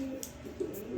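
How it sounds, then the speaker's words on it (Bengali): A female grizzle pigeon coos softly and close by, giving a couple of low, throaty calls over quiet background noise. "দেখেন কবুতরটা দেখেন, এই মাদি কবুতরটা"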